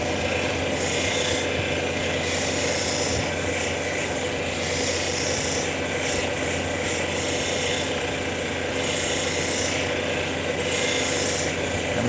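Fire obsidian stone being ground on a lapidary machine, a steady, loud, continuous abrasive rasp with a motor hum beneath, running without pause.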